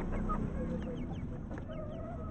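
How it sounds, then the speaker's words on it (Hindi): A hen clucks softly nearby, a few short low calls over a steady background hum. "इधर दूसरी मुर्गी है"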